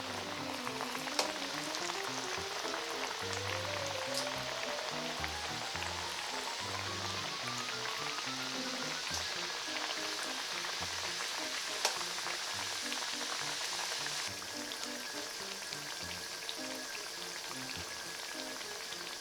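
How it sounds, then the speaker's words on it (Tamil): Discs of masala thattai dough deep-fry in oil at medium heat, giving a faint, steady crackling fizz like light rain, with soft tonal music running throughout. "எண்ணெய் மீடியம் சூட்டில் இருக்கணும். ஒன்றொன்னா போட்டு வேக வைக்கணும்."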